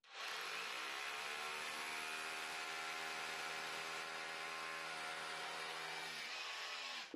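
An Einhell Herocco rotary hammer drills with a 14 mm bit, a sustained loud motor whine with a hammering buzz that holds steady for several seconds, then winds down.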